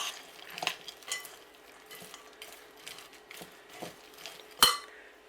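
A spoon stirs teaspoon of cardamom into a White Christmas slice mixture in a bowl, with soft intermittent scraping and light clinks against the bowl, one sharper knock near the end.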